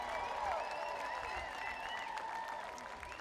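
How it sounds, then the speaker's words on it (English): Crowd applauding at an outdoor street unveiling ceremony for Barack Obama Boulevard, steady clapping under some whistles and cheering voices. "Give Martin Luther King Jr. and Barack Obama a big round of applause"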